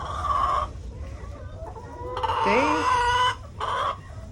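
Several chickens cluck and squawk close by in short bursts, one giving a longer rising call, with quiet pauses between.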